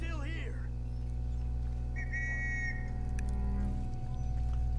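A whistle in the video game Red Dead Redemption 2, a clear rising tone repeated briefly over steady low game ambience with possible horse and water sounds, with talk around it.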